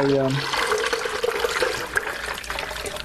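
Drilling mud pouring from a bucket into a Marsh funnel viscometer in a lab, a continuous rushing, splashing liquid flow heard close and fairly loud, with a brief tonal sound at the start.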